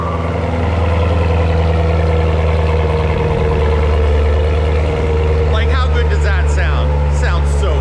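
A C8 Corvette engine with a Corsa Extreme exhaust, started by remote start, rumbles steadily at idle, loud and close, while excited voices whoop and cheer near the end.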